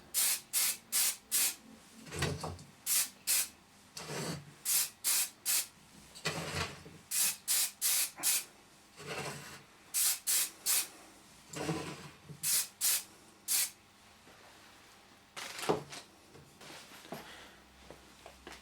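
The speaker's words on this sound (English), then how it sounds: "When you've finished using an aerosol like this, it's important to turn it upside down and spray it" Aerosol spray paint coats a brass door knob and back plates in a rhythmic series of short, loud hissing bursts, each lasting about half a second, with brief pauses between them and no talking.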